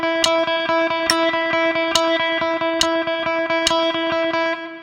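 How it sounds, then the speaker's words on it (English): Distorted electric guitar plays a fast, even run of sixteenth notes, four per beat, with sharp metronome clicks marking each beat roughly every 0.85 seconds; steady, loud and alone, with some reverb. "We're gonna play 4 notes per click."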